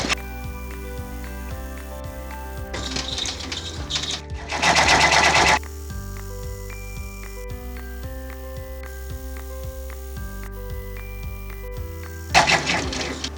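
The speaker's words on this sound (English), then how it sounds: "we're going to stitch out the satin stitching for the center ring and then for the outer square here" An embroidery machine stitching satin stitch on a chenille quilt block runs in fast, regular needle bursts with a humming motor, pausing between runs, with louder rattling stretches where the thread moves, close and without talk.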